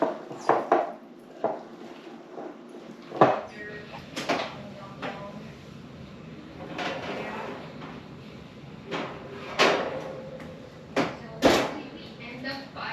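Pumpkin bread batter stirred in a bowl, with irregular knocks and scrapes of a utensil against the sides, close and moderately loud, while a person talks over much of it.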